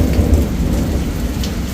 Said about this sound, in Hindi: बड़े खतरनाक आवाज आ रही है आसमान की।